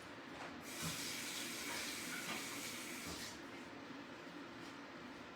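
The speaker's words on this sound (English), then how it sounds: "I'm just going to give my fingers a quick rinse." Fingers rinsed under a running kitchen tap while cooking dumpling noodle soup, giving a steady, close hiss of flowing water that continues throughout with no talking.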